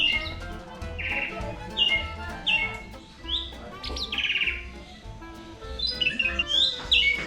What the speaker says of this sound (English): Look at the birds.